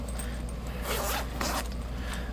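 A pencil case zipper is pulled open in two quick scratchy runs, close by and fairly quiet, over a low steady hum.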